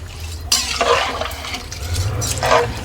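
Rice mixture stirred in a cooking pot for bagara rice, a few wet scraping and sloshing strokes close up, short and uneven, no talk.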